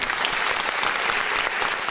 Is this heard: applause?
yes